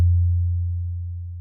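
A low, pure FM-synthesized tone imitating a Javanese gong hums steadily and slowly fades, with a gentle wavering in pitch and volume.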